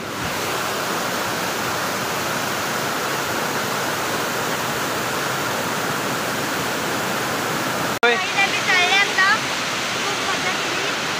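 Waterfall where people bathe, a loud, steady rushing roar of pouring water that runs throughout, with a brief break near the end followed by water splashing and chirping sounds.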